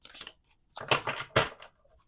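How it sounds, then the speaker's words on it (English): Tarot cards being shuffled, a few quick papery riffles in short bursts, close and fairly quiet, with no talk. "Two more shuffles."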